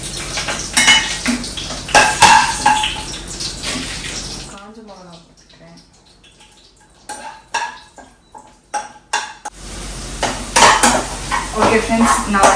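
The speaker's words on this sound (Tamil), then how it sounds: "நான் வந்து பச்சை மிளகாவும் வெங்காயமும் போட்டிருக்கேன்" Green chilies and onions fry in a pan with a steady hiss and clattering utensil stirring. The sizzle drops away briefly mid-way, where a few sharp clinks sound, then returns as a voice talks over the cooking.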